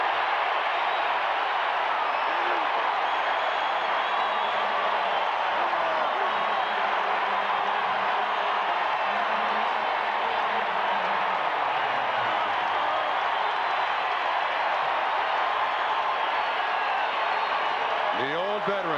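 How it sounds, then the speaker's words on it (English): A packed stadium crowd roars continuously after a sack by veteran Karl Mecklenburg in a 1994 NFL game between the LA Raiders and Denver Broncos in Denver, a dense sustained cheer with broadcast commentary over it. "listen to this crowd as Mecklenburg, the veteran, has the sack."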